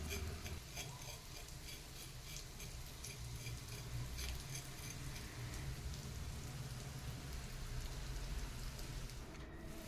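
Semolina-coated kingfish (surmai) fillet frying in a pan gives off a continuous, dense crackle and sizzle, steady and close with no voices.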